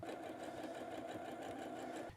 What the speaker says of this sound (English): let's head on over to the sewing machine and sew these together